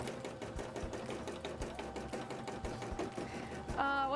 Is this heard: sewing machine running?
yes